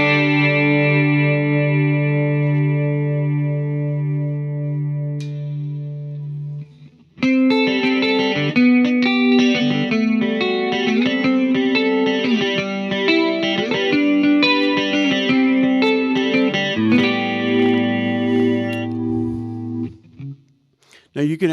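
Electric guitar played through a Fender Mustang Micro headphone amp on a preset with chorus and reverb, giving a clean Fender tone: sustained chords, then a busier strummed passage, loud and steady with no talking over it.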